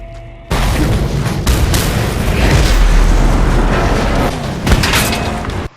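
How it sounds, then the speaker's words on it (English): Explosions in the Mad Max video game erupt suddenly after a brief quiet start, a loud sustained roaring blast with rumbling debris and a second sharp burst near the end. "Wherever you go, explosion."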